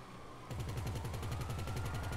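Rapid automatic gunfire in a heist video game that starts suddenly and keeps up a steady, loud, evenly spaced rattle.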